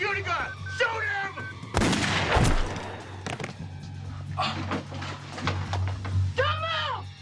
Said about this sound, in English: Shoot the security guard! Shoot him!